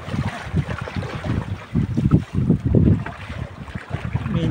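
Strong wind and heavy waves buffet a small fishing boat out longline fishing at night, a steady close roar of rushing air and water with gusty surges and no talk.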